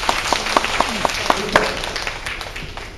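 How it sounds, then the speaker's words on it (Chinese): An audience at an education lecture applauds a parent with scattered, fairly distant clapping that swells briefly and then fades, heard beneath a brief spoken word. "给这位家长鼓掌一下。"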